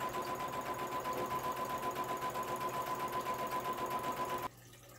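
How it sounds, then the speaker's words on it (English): A sewing machine stitches a seam around a fabric Christmas stocking, a steady, rapid close-up whirr with even rhythmic pulsing that runs continuously and then stops abruptly near the end. "go ahead and sew all the way around that one"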